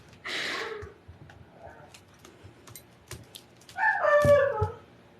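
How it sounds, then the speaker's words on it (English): A dog lets out two loud, drawn-out howling cries, one near the start and a longer one near the end, with scattered small ticks and faint noises between. "That's a dog."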